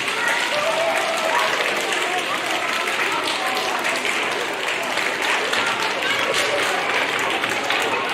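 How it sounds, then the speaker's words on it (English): Audience applause and clapping at a school book-of-the-year celebration, a dense, steady wash of many hands filling the whole stretch at even loudness, with faint crowd murmur beneath. "Let's give spirit fingers and clap,"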